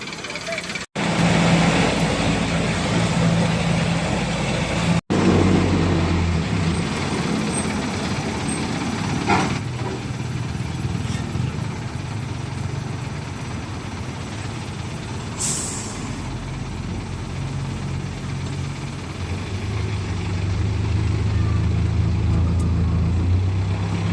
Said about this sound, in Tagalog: Ito na yung jeep.